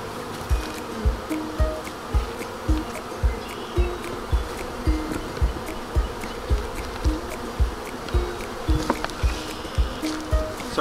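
Honey bees buzz steadily around a new hive being populated, making a dense, continuous droning hum close by. A regular pulsing thump repeats about twice a second beneath the buzz.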